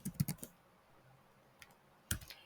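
Computer keyboard typing comes in short quiet bursts, a quick cluster of clicking keystrokes at the start and another after a pause, with no talking.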